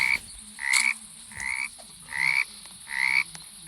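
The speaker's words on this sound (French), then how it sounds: "Ah ouais, il y a des grenouilles." Frogs in the video game 99 Nights in the Forest croak in four loud, evenly spaced bursts, each a raspy rising call, over a quiet ambient background with no talking.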